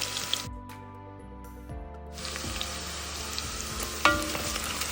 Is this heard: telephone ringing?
no